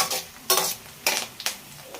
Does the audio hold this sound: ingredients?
yes